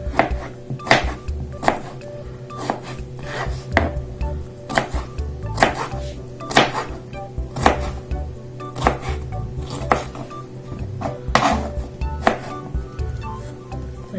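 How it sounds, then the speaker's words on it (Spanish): A knife chops radish into small cubes on a cutting board, sharp regular taps roughly every second, close and clear over a faint background hum, no talk. "Ahora seguimos con el rabanito. Este va a ser en cuadritos."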